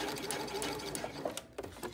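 A sewing machine back stitching a seam on a tote bag, a fast continuous mechanical whir with a brief hitch and a short pause near the end, close and clear.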